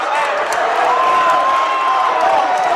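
A crowd cheers at a varsity boys wrestling match in the North 2 Group 3 finals after a pin. The roar is loud and continuous and fills the hall, with whoops and some clapping mixed in.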